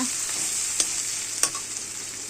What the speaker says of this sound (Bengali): এখন দেখো আবার মাংস রান্না করতেছি